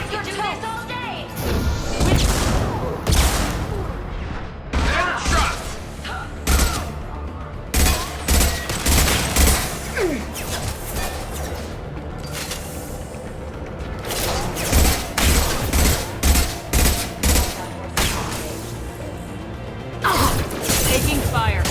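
Gunfire in the video game Mass Effect 2: repeated loud bursts and impacts in irregular clusters through a long combat stretch, with voices speaking between and under the shots.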